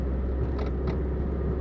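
A Scion FR-S engine blips and rises in revs during a rev-matched gear shift, a steady close rumbling drone with two brief higher surges, no talk.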